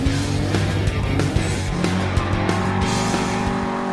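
A BMW DTM race car drifts on a low-traction surface at Arjeplog, its loud engine revving and fluctuating while the tires squeal and skid continuously, close and dominant with no speech.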